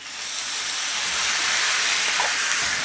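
A splash of water poured into a pan of fried bitter gourd with potato and poppy seed sets off a loud, steady steam hiss that swells and holds, with a brief bubbling sputter near the end.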